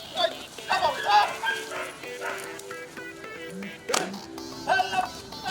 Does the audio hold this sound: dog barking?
yes